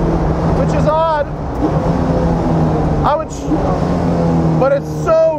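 A championship-winning 2002 Mustang Cobra Grand Am race car on a track, its loud engine droning and revving up through gears with rising whines between shifts, heard close over a constant rumble while someone talks.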